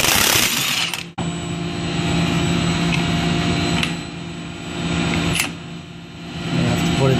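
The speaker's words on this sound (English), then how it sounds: "My Milwaukee Fuel in action." A Milwaukee Fuel cordless power tool runs steadily and close by during HVAC work on an Evapco cooling tower, a continuous motor whine with brief dips and surges in speed, after an initial burst of noise.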